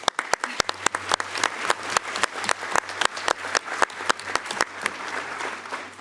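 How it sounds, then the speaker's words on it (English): Seminar audience applauding the speakers at a technical session on marine biofuels, a steady burst of hand claps with a few sharp, close claps standing out over a low hum, lasting throughout. "give them an applause first"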